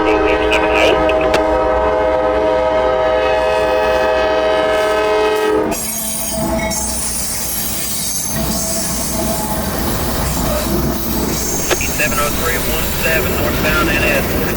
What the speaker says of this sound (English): Norfolk Southern manifest train off the CSX side back onto the Norfolk Southern.